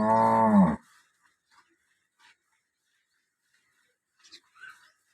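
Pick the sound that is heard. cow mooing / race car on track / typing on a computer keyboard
cow mooing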